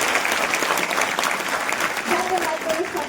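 An audience at a Jat women's empowerment gathering applauds, a loud, continuous wash of clapping from a large crowd with a voice speaking over it toward the end.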